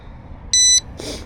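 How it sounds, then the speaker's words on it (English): A fishing bite alarm on a rod pod by a river gives one clean electronic beep lasting about a quarter second, followed by a softer buzzy tone, close with quiet outdoor background. "Bite alarm's turned on, so when a fish takes off, they'll pull my drag"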